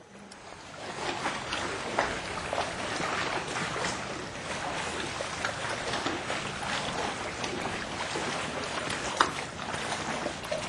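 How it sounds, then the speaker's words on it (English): Sea canoe paddled through open water among rocky caves in Phang Nga Bay, Thailand, with a steady broadband wash of water and wind, occasional paddle splashes, and no clear talk. "Rowing to the next cave."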